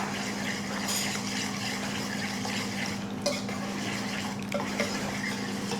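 Wet banana cake batter with vanilla essence is stirred in a bowl: soft, continuous swishing and stirring over a low hum, with a couple of light clinks of the utensil against the bowl.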